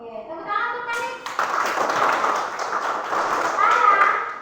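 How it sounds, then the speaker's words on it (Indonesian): A primary school class claps together after a student's turn, a short burst of dense hand clapping that follows a teacher speaking and carries under children's voices. "tepuk tangan untuk Panik."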